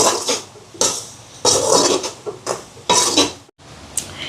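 Crushed cardamom being mixed into a batter in a bowl for coconut pani pol roti, heard as close, irregular bursts of spoon scraping and clinking against the bowl, with short pauses between strokes.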